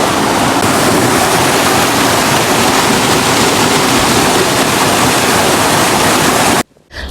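Loud, steady roar of water rushing through a gorge stream near a hidden waterfall, continuous broadband noise that cuts off abruptly just before the end.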